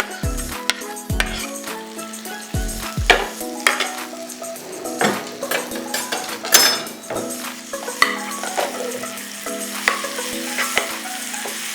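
Grated apple fries in butter with a close, crackling sizzle, broken by repeated scrapes and clinks of a utensil stirring against the pan, and no voices.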